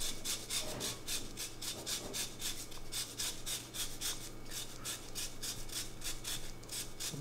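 Lemon zest rasped against a fine grater into Greek yogurt, giving steady, rhythmic scraping strokes at a quick even pace, close and clear with no talk.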